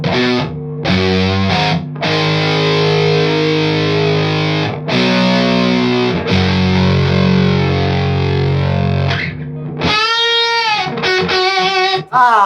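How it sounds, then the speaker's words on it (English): Guitar chords pass through a bit-crushed delay effect, giving a gritty, digitized, distorted tone with repeating echoes; the playing runs loud and steady for about ten seconds, then a brief pause and a brighter crushed burst follow. "Oh, it's bit crushed."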